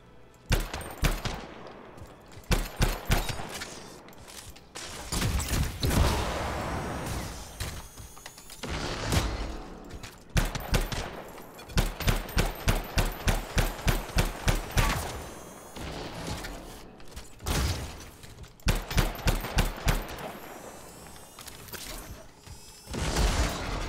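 Gunfire from the video game Anthem comes in rapid automatic bursts, loud and close, separated by brief pauses with mechanical clacks and reload sounds.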